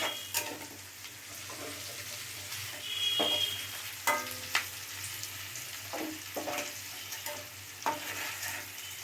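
Paneer pieces frying lightly in hot oil in a pan, a soft steady sizzle with scattered sharp clinks and stirring knocks of a utensil, fairly quiet and close, no voices.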